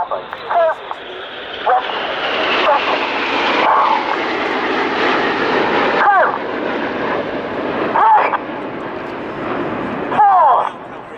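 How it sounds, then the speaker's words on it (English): Red Arrows jet aircraft performing a flying display at the Royal International Air Tattoo air show, a loud continuous roar of several jets sweeping past with rising and falling whooshes, under a commentator's voice over the public address. "Red 1 about to lead the aircraft in, the smoke about to come on for the battle break."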